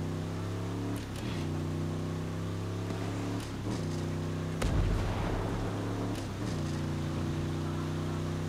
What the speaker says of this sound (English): Rocket incoming!